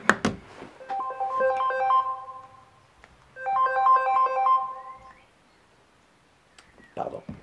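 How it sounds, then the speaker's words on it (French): A mobile phone ringtone plays a bright melodic pattern twice, fairly close and clear, interrupting a French talk about Padre Pio's doctor, with brief noises at the start and end. "quand on oublie de mettre en arrêt son téléphone, voilà ce qui se passe"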